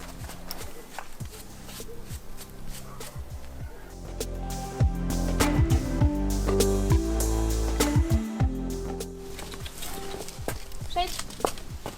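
A Silesian mare walks along a riding trail, her hooves clip-clopping in a steady, close rhythm while a rider talks over them.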